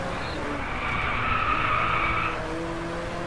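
A Ferrari in the Driveclub racing game skids through a corner, its tires squealing loudly over the engine's steady roar.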